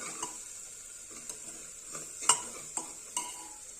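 Spices with crushed kasuri methi stirred and fried in hot oil for a cowpea curry, giving a faint steady sizzle broken by a few light spoon clicks against the pan.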